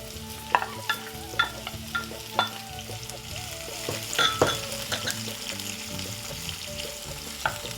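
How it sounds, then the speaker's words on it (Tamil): Onions frying in oil with fennel seeds, fenugreek and green chilli for a Tamil fish curry, sizzling steadily while a spoon stirs and taps the pan in irregular close strokes. "வெந்தயம் பெருஞ்சீரகம் வதங்கின பிற்பாடு இப்போ வெங்காயத்தை போடுவேன்"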